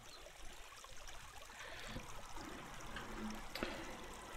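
Water flowing and draining away in the Minetest video game, a steady broadband trickling wash with a brief brighter splash near the end, no talk.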